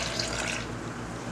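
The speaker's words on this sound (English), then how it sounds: "I'm gonna add 1 cup of water to that." A cup of water poured onto strawberries before pureeing, a brief close splashing rush that fades into a softer trickle, heard alone.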